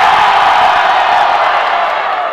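Loud, dense crowd noise at a Brazilian rap battle semifinal, a roaring wall of cheers and whoops for Thiago that holds steady and fades only slightly over a couple of seconds.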